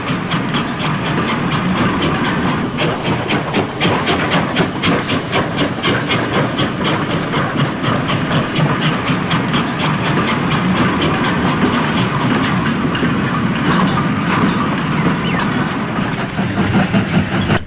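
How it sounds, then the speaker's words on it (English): A 1937 Beyer Peacock four-coupled Garratt steam locomotive hauls colliery wagons up a very steep line, with a loud, steady chuffing and hissing carried over rhythmic clickety-clack from the wagons, close by and continuous with no talking. "Baddesley used this 1937 Bayer Peacock 4-coupled Garrett William Francis to work the very steep line linking the pithead to the sidings"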